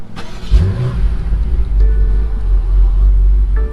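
A twin-turbo V8 BMW M5 idles with a deep, steady rumble that swells briefly near the start, heard up close from inside the car with people talking over it.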